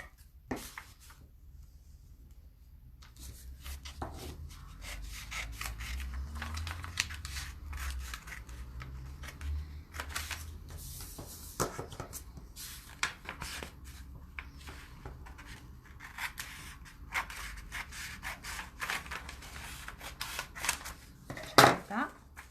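Scissors snipping through a paper sewing pattern piece during a shoulder fit alteration, a close run of crisp cuts and paper rustles, with speech in parts.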